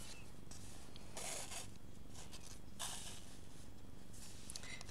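Thread is pulled through altered book pages while hand sewing, giving quiet, soft rasping drags in short bursts over a faint steady background hiss.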